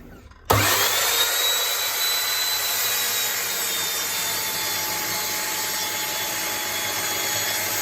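A power tool starts abruptly and then runs steadily, cutting a 45-degree chamfer into wood with a continuous whining, rasping buzz that stays loud throughout.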